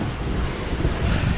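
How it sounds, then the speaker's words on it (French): Strong wind roars steadily during a rain squall aboard a small Mini Transat racing sailboat in 33-knot gusts, a loud continuous rushing with low buffeting rumble and no voices. "j'ai fermé la porte parce qu'il pleut des cordes, on a 33 nœuds de vent."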